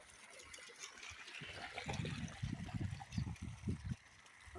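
Water from a motor-driven pump flows along an irrigation channel on a farm, a faint gurgling trickle that swells into soft splashing pulses.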